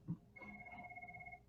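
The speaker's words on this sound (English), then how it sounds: "my phone's ringing" A phone rings during a push-up workout session, its steady electronic ringtone holding two sustained tones that start about a third of a second in and continue to the end at moderate level over a low room background.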